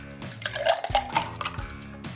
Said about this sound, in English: I'm just pouring back a few times so I can incorporate the vodka and the Bloody Mary mix and the ice